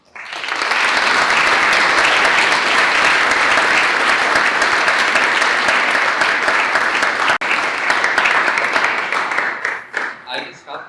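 Sustained applause from an audience of more than 70 people in a conference room after a talk on deep learning and AI, loud and steady for about ten seconds, then breaking into scattered claps as it fades at the end.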